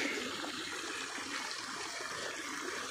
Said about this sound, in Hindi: ऊपर से पानी आ रहा है मारगल्ला की पहाड़ियों से